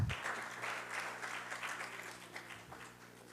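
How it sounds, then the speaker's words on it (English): An audience at an environmental event welcomes a guest speaker with moderate applause, soft but steady clapping that continues evenly at a modest distance. "May I have a round of applause,"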